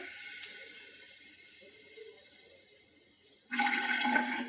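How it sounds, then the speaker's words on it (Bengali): After a near-silent lead-in, hot water pours into a flask holding baking soda and vinegar, a short, close, splashing gush that lasts about a second at the end. "সামান্য গরম জল দেবো"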